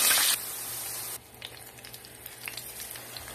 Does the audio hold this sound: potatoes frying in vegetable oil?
yes